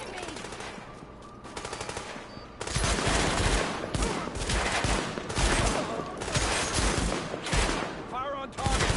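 Dense automatic gunfire rattles through a firefight in the video game Tom Clancy's The Division, starting lighter and then erupting into loud, sustained bursts and volleys that continue to the end.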